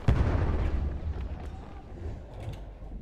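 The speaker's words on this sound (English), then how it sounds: "Rifle grenade." Rifle grenade exploding in the Battlefield 1 video game, one sharp booming blast at the start that decays into a rumbling tail, with smaller pops and distant gunfire after.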